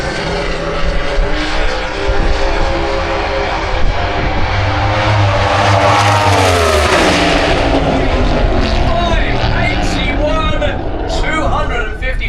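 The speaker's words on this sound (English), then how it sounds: "a good, nice, solid run for the big twin turbo car from Estonia in the Kessler lane" A big twin-turbo doorslammer drag race car from Estonia accelerates hard down the strip in a loud, continuous roar that rises in pitch and then fades as it pulls away.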